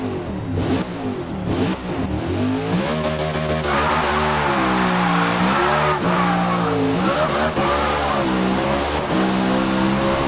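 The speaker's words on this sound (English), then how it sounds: "Let's do a quick little sound test of this car." A race car engine in Forza Motorsport revs and shifts repeatedly, its pitch rising and falling in waves, loud and continuous with a tire squeal in the middle.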